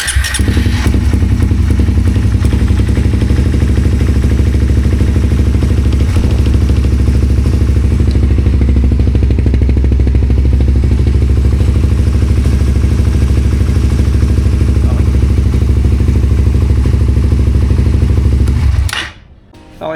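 A Suzuki GSX 150 motorcycle engine, fitted with a new spark plug, runs loud and steady at close range for most of the clip with a constant low drone and faint clatter, then cuts off abruptly near the end.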